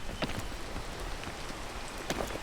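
Rain in the climbing game Peak, a steady dense hiss of falling drops with occasional sharper patters, constant and fairly close throughout.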